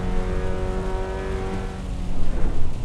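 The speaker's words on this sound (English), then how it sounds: "the skid noises, the rumble strips" In the racing game Assetto Corsa EVO, a race car's engine roars continuously while the tyres skid and a coarse rumble swells near the end as it runs over rumble strips, loud and close, with no voices.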